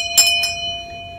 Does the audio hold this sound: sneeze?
no